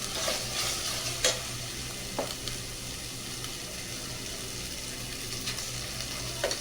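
Ginger and garlic sautéing on a medium flame for vegetable upma, a steady soft sizzle with occasional spatula scrapes and stirring clicks, close and continuous with no voices.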